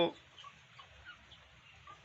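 Desi chickens cluck softly at a home poultry setup, with low, scattered calls over a steady background murmur and a voice briefly at the start.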